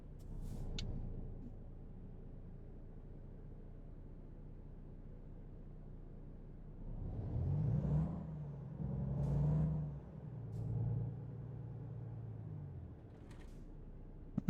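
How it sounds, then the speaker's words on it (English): A truck engine in American Truck Simulator starts up after a quiet lull, swelling into a low rumble that rises and falls a few times before settling into a faint, steady idle. "So we'll go ahead and start the truck up there."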